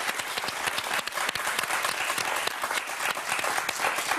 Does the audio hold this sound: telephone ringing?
no